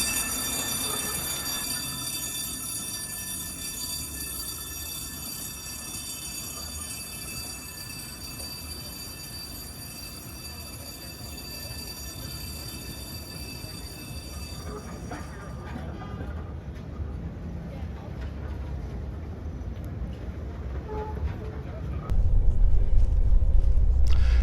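Historic San Francisco streetcar running along Market Street downtown, a continuous rolling rumble with high wheel squeal and rail tones, loud and close throughout, rising louder near the end.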